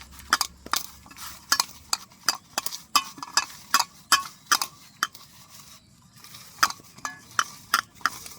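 Samosa dough is being kneaded and pressed by hand on a work surface, making close, rhythmic squishing and slapping pushes about once or twice a second, with nothing else heard.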